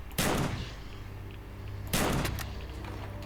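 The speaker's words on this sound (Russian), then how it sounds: "А вот кровосос с 2 выстрелов отъехал, между прочим." Two loud gunshots in the game S.T.A.L.K.E.R., each a sharp blast with a decaying tail, about two seconds apart, heard alone without talk.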